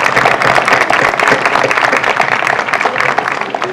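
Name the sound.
audience applause at a signing day ceremony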